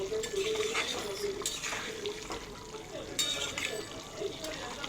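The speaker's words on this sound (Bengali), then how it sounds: "এবার ভেজে রাখা ডিমগুলোকে আমি দিয়ে দেবো, আবার একটু মিশিয়ে নেব, নাড়িয়ে চাড়িয়ে নেই।" Egg curry stirred in a pot after fried eggs are added, giving scraping and clinking of a spoon against the metal along with soft wet sloshing, close and continuous, with a voice speaking over it.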